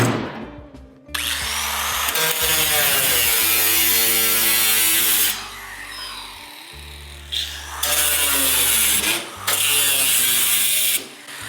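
A power tool cuts a curved windshield piece held by a clamp, with loud sustained buzzing bursts that stop and restart several times, separated by brief quiet gaps.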